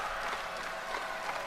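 A crowd at a 1991 professional wrestling event roars and applauds in a dense, continuous wash of cheering and clapping.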